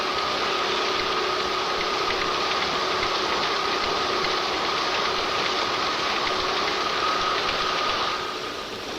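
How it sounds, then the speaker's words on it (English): Grain milling machines crack wheat kernels between steel rollers, running with a continuous, dense mechanical whirr and rattle, steady and loud, with a faint tonal whine throughout. "The grain is fed into a series of milling machines where the kernels are cracked between the steel rollers."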